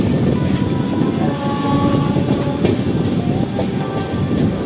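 The Sabari Express rolls along the rails with a loud, steady rumble and rhythmic clatter of wheels over joints, heard from on board, constant with faint squeals riding over the roar.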